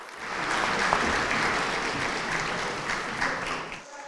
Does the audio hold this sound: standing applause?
yes